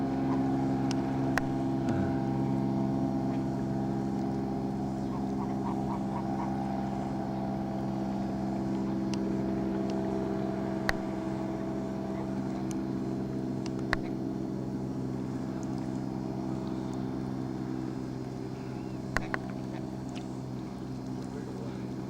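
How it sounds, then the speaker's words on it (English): A seaplane takes off on the water nearby, with an old paddle cruiser close by, giving a steady low engine drone that holds throughout under wind and faint background sounds. "this is the view we have with the seaplane just taking off in front of us"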